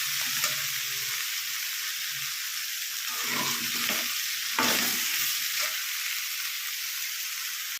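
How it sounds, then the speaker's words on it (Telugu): Raw banana pieces frying in a pan with oil, a steady bright sizzle broken by a few scraping, clattering stirs in the middle, close up and without speech. "అరటికాయని కాస్త వేగనివ్వాలి."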